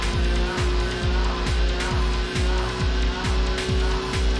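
Race car in Gran Turismo revving hard, a loud buzzing engine note repeatedly climbing and dropping with regular gear shifts, tyre noise underneath, continuous and close.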